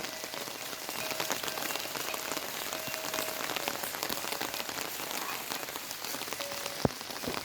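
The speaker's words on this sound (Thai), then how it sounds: "ฝนตกลงมาเนาะ" Steady rain falls across the whole stretch in an even, dense patter on a surface, with a few louder drops. No one speaks.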